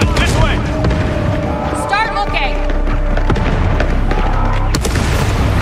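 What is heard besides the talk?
fireworks explosions in the video game Star Wars Outlaws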